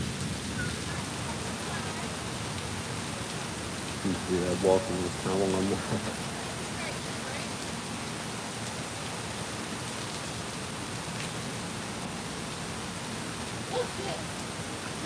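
A heavy rainstorm at Disney pours down in a steady, dense hiss of rain on surfaces, with a voice talking briefly over it midway.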